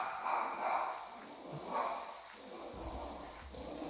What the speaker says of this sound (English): I think I'm going to shoot that dog one of these days.